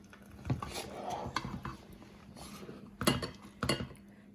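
Utensils scrape and clink against a dish as spinach saag is served, with soft wet plops and a few sharper metallic taps, quiet and close.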